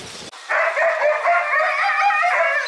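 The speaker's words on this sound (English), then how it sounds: "Two beautiful huskies." Two huskies at a hillside home on a mountain in Koh Samui, howling and barking loudly and close by, one sustained yowling cry that wavers in pitch.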